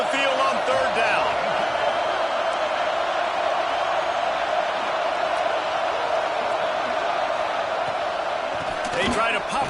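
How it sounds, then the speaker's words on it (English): Home crowd roaring at a college football game in Florida as the defense faces third down, a steady dense wall of cheering throughout with broadcast commentary over it. "Here comes this home crowd as the defense tries to get off the field on 3rd down."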